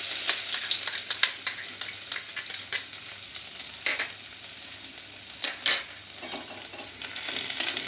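Chopped garlic, eight to ten cloves, frying in hot oil with black cumin, a steady close sizzle with scattered sharp crackles and a few stirring scrapes, no voices.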